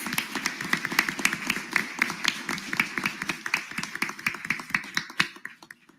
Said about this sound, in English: So would you give them a round of applause for their thoughtful answers to the questions?